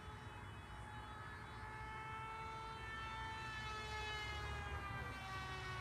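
Crash Test Hobbies Assassin 37-inch RC plane held at half throttle, giving a steady, fairly faint motor whine whose pitch slowly falls as it passes overhead, alone with no voices.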